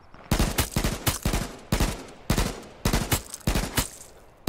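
AK rifle shots in the video game H1Z1 ring out in quick, loud bursts of two to four rounds, repeated at short irregular gaps, close and sharp, with no talking.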